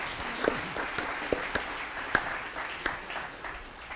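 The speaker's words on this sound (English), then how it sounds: "yes, applause for that" Audience applause at an award event in a hall, a moderate, somewhat distant patter of clapping hands with a few sharper claps standing out, steady for several seconds.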